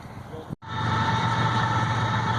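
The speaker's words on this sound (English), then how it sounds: "We're right by the train." Near a trail-town campsite beside the tracks, a train rumbles past close by, a loud steady roar with a sustained hum that swells in after a brief cutoff and continues unbroken.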